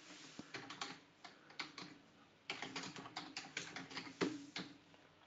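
Fingers type on a computer keyboard, two close bursts of quiet, rapid key clicks separated by a short pause, with no voices.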